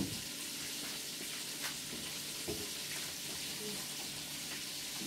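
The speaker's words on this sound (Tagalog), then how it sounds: "Pagbigisa tayo ng little bit of olive oil." Olive oil sizzling in a pan while sautéing for carbonara sauce, a soft continuous hiss with faint crackles and occasional utensil clinks, quiet and steady throughout.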